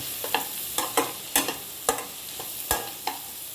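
Beans and carrots being stir-fried in a pan, with a soft constant sizzle under a regular series of sharp scraping and tapping strokes from a spatula, roughly two per second.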